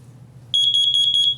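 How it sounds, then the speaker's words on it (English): A carbon monoxide alarm sounds close and loud, a piercing high electronic tone pulsing in rapid repeated beeps over a low background hum. "Carbon monoxide alarms are one of the most important things you can have in your house."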